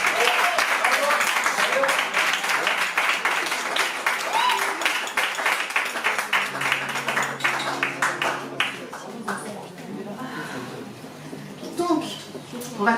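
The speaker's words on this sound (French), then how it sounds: "je vous demande, s'il vous plaît, d'applaudir Christophe et Cyril" A concert audience at La Zonmé in Nice breaks into dense, loud clapping over sustained musical tones, then thins out and fades after about nine seconds into quieter scattered claps.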